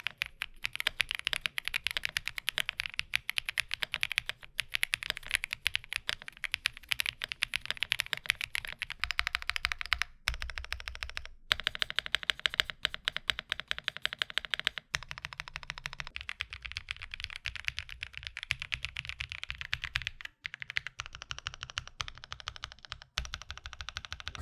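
Custom keyboard fitted with Dream switches and DCX Dolch keycaps, typed on steadily for over twenty seconds; rapid, dense clacky keystrokes close to the mic with a few brief pauses, no talking.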